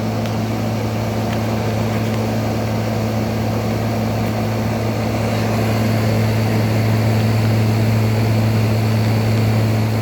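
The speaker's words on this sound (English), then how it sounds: "Here's the compressor." A steady, loud hum from the running compressor of an SPT 12,000 BTU air conditioner, with strong low tonal drones and broadband whir holding constant throughout with no talk.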